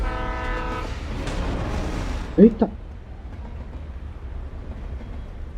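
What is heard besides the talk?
train passing by in the video game Alan Wake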